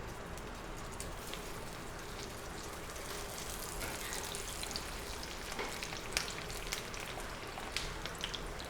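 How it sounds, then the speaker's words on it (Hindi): Eggplant slices fry in about three tablespoons of oil in a pan, a soft continuous sizzle and crackle with scattered pops, fairly quiet and close, with no voices. "बैंगन को फ्राई करने के लिए मैं यहाँ पे 3 टेबलस्पून ऑयल लूँगी और इसमें तरतीब से बैंगन डाल लूँगी"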